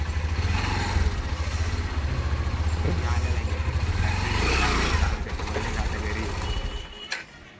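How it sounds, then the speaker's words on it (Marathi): A motorcycle engine on a village road idles in a steady, buzzing putter for several seconds, then sputters and cuts out near the end. "तर या ठिकाणी सारंगने गाडी चालू केली"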